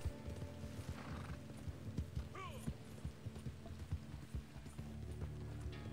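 Rhythmic hoofbeats clip-clop under a low hum, and a brief horse whinny rises partway through; a voice murmurs faintly in the background. The horse is in the video game Red Dead Redemption 2.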